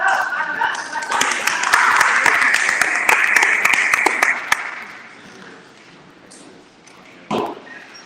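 Audience clapping at a charity event, a loud burst of many hands for about four seconds that then tapers off, followed by quieter room noise and a single sharp knock.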